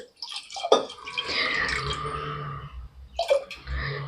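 Water is poured from a pot-sized vessel into a pot of pumpkin and tofu soup, a close splashing and trickling pour that runs for a few seconds, then a short second splash follows.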